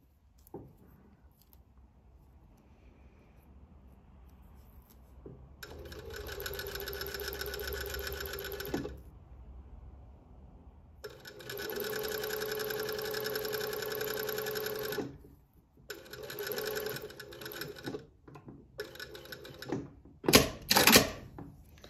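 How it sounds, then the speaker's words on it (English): A sewing machine runs a row of stitching on a chiffon tutu skirt in two long steady whirring bursts, then shorter stop-start runs and a few sharp clicks near the end. "Now that I've done the first row of stitching"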